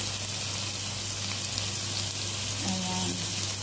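Eggplant and onion fry in a pan with a steady, dense sizzle that stays close and even throughout, with a faint stir or clink late on and no voices.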